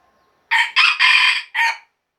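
A single rooster crows nearby, loud and clear in four distinct segments after a moment of silence.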